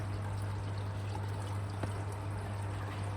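Water runs steadily through a homemade corner aquarium sump filter, a continuous close trickle with a constant low pump hum beneath it and no talking.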